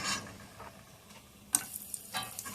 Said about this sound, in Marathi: अशा संपूर्ण चकल्या आपण थोड्या तळून घेऊया